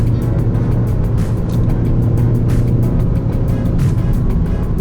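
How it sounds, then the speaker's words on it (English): Ford Focus ST engine humming steadily in fifth gear while climbing a hill on a rough tar-coated road, a continuous loud drone with road and tyre noise throughout. "I like to have a little hum in the engine"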